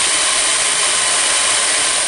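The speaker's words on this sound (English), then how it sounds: "Then I'm going to drill two holes, one on either side," A power drill whirs continuously as it bores two holes through a small case for a homemade guitar amp input mixer, a steady close, loud grinding drone with no talk.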